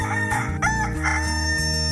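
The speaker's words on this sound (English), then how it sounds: "a rooster crowed and Peter realized what he had done" A rooster crows once in a long, clear call, heard over steady background music.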